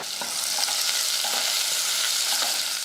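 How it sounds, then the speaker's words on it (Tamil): Small onions with mustard seeds, dried red chillies and curry leaves sautéing in hot oil, a steady close sizzle with occasional stirring scrapes throughout, no voices. "கொஞ்சம் கடுகு ரெண்டு வரமிளகா கருவேப்பிலை அடுத்ததாக கொஞ்சமாக சின்ன வெங்காயம் போட்டு நல்லா வதக்கிக்கலாம்"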